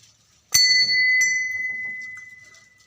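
A metal bell at a Shiva temple is struck once sharply, then lightly again a moment later, its bright ringing tone lingering and slowly fading, with faint background murmur.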